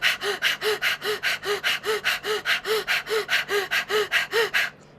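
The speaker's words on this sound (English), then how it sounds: "Start panting dog." Rapid, rhythmic panting breaths from a person doing a dog-style breathing exercise in a yoga pranayama routine, about twelve sharp even puffs in quick succession, close and loud, then stopping abruptly.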